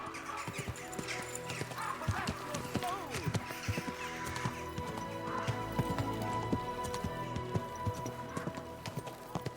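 Dense clip-clop of galloping hooves with occasional whinnies, many horses running together in Kingdom Come Deliverance 2 under a steady background din, with a voice talking over it.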